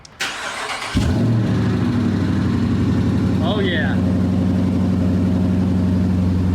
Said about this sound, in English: Dude, let's start it up. Fire that sucker up. Let's hear what it sounds like